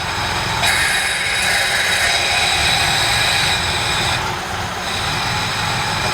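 A Unimog 404 engine idles loud and steady with a rough, noisy drone and a high whine after its fuel pump rebuild, running alone with no talk.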